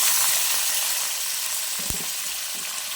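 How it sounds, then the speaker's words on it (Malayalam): Curry leaves and other ingredients sautéing in a pan, a steady close sizzle and fry hiss with a brief stirring clatter near the middle, no voices. "അപ്പോൾ ഇതൊക്കെ നന്നായിട്ടൊന്ന് മൂപ്പിച്ചെടുക്കട്ടെ, വഴറ്റിയെടുക്കട്ടെ കേട്ടോ."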